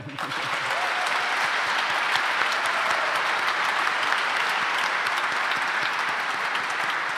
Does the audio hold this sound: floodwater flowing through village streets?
no